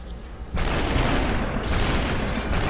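Gunfire in the video game SUPERHOT bursts out as a sudden loud, dense roar that holds steady for a couple of seconds after a brief quieter lead-in.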